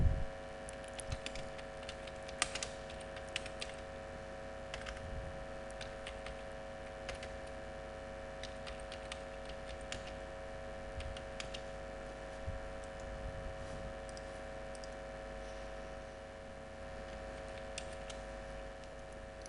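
Faint, irregular key clicks from typing on a computer keyboard while entering text in Microsoft Word 2007, scattered soft taps over a steady low electronic hum, no voices.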